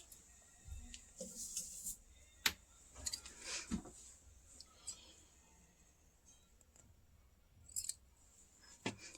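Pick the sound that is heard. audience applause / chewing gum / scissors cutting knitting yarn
scissors cutting knitting yarn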